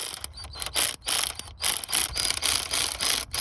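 A hand ratchet clicks rapidly in short bursts with brief pauses while tightening bolts on a 2005-2014 V6 Ford Mustang thermostat housing, close and clear with no talking.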